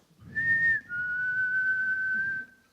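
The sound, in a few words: whistle imitating a mother's call from a balcon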